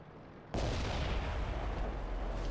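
A tank comes under fire in the World of Tanks game, with a sudden loud boom that opens into a sustained, heavy rumbling roar of battle noise that continues to the end.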